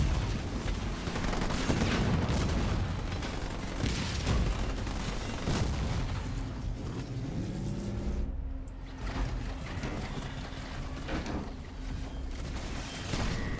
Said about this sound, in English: Did that turret shoot the sentinel?